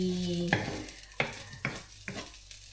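Onions being stir-fried in a pan, several sharp scraping stirs over a soft sizzle, close and fairly quiet, with no talking.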